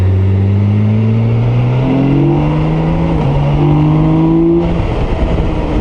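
A 2022 BMW K1600GT touring motorcycle's engine revs up and down in steady, loud, close surges with shifting pitch, continuous throughout with no one speaking.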